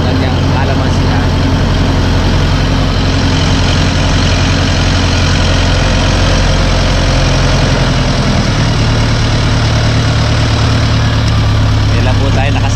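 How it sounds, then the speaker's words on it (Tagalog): A farm tractor engine runs steadily throughout the ride, a loud, constant low drone that shifts pitch slightly partway through, close by, with people talking over it. "First time natin makasakay rito sa traktora."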